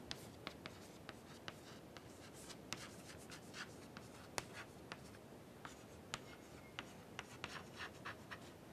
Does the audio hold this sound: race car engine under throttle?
no